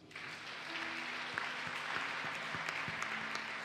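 A church congregation applauding during a worship service, a dense sustained clatter of many hands clapping at moderate distance, steady for several seconds with faint background tones.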